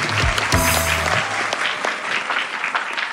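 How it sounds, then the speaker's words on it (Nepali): A studio audience at a comedy show applauds, sustained crowd clapping that swells after a brief voice at the start and continues evenly. "आफ्नै लागि हातै दुख्ने गरेर बेसकन ताली बजाइदिनुहोस्"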